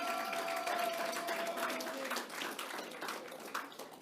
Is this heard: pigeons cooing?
no